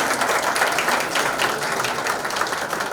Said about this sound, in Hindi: सॉन्ग अनवील करने से पहले ताली